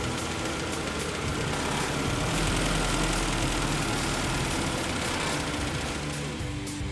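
A Mini's car engine idles steadily up close while its idle speed is being set, a continuous low rumbling drone with no voices.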